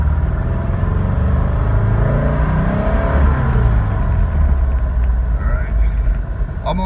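A 1970 Porsche 914 with Megasquirt fuel injection drives along with a loud, low engine rumble that swells slightly as throttle is added.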